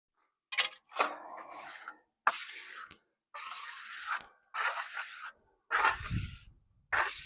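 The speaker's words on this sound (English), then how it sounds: "I'll take this smaller trowel and just kind of get around the edges here." A small trowel works the edges of faux stone concrete steps, short scraping strokes about one per second with brief gaps between them, close and without talk.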